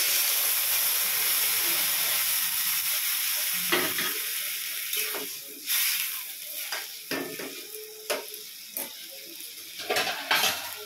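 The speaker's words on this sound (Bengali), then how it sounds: "তো এইবার আমরা এর মধ্যে জল অ্যাড করে দেবো।" Water poured into a pan of frying okra and potatoes sets off loud, continuous sizzling and steamy hiss, punctuated by several stirring and pan clatters toward the end.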